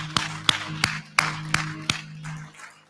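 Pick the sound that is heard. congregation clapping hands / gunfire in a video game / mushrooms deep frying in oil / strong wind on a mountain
congregation clapping hands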